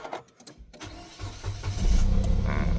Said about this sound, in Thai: ทดสอบสตาร์ทนะครับหลังจากประกอบรถพร้อมเปลี่ยนอะไหล่ที่เสียเรียบร้อยนะครับ